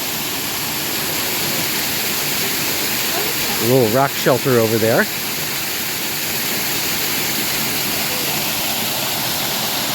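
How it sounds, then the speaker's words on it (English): Steady rushing roar of a ledge-type waterfall with a couple of spouts and a large plunge pool at Frozen Head State Park, Tennessee, with a person briefly speaking over the constant pouring water. "Nice ledge-type waterfall with a couple of spouts."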